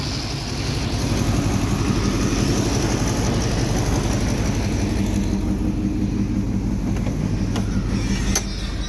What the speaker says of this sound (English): As you guys can see, the fan is running.